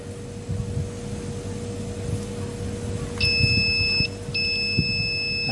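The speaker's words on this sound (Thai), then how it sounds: "ผมก็จะใช้มัลติมิเตอร์นะครับผมตั้งไปที่ย่านเสียงนะครับแล้วก็เสียบไปที่ตัวปลั๊กก่อนนะครับ" A multimeter set to continuity mode, probes on a power strip plug with a short circuit, gives a high electronic beep that sounds twice with a brief gap, over steady background hum and some handling noise.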